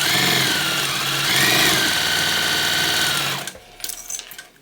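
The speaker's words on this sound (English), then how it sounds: "use a 1/4 inch seam allowance, and stitch these right sides together" A sewing machine stitches a seam in vinyl for a bag, giving a loud, steady mechanical whir that stops abruptly near the end and is followed by a few quieter handling clicks.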